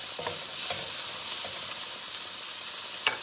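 Paleo seasoning tossed in a hot pan gives a steady, close sizzle, with a few soft stirring and scraping taps and no talking.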